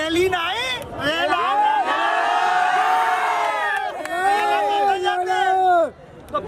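Large crowd at a political rally for Chandrashekhar Azad's party in Agra, loud sustained cheering and shouting voices rising and falling, with a brief dip before the roar swells again and then drops off abruptly.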